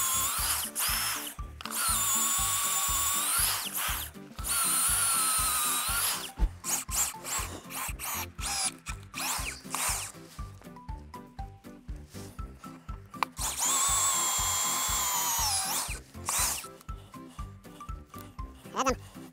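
A motorized earth auger bores into dense, soft soil in bursts of loud whining grind, pausing between runs, with a voice talking in the gaps.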